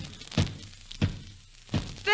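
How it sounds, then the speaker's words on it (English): Three dull thuds of a head banging against a wall, a radio comedy sound effect, spaced about every two-thirds of a second and fairly loud, with a brief bright ringing tone at the very end. "stop banging your head against the wall"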